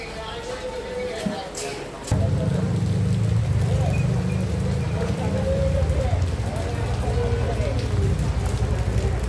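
Heavy rain pours down outdoors, a dense, steady hiss that swells louder after a quieter first couple of seconds and keeps drumming under scattered voices.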